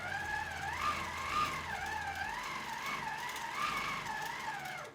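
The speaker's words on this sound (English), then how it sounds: "So I'm going to sew just a little bit more." QMP 16 longarm quilting machine sewing stitches on a quilting frame, a steady mechanical run for several seconds with a wavering whine riding over its motor hum.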